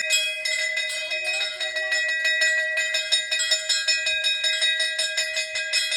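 A village temple bell at a Shiva shrine near Sheldi dam in Khed rings in steady, rapid repeated strikes, loud and close, its bright metallic tone sustaining continuously with no talk.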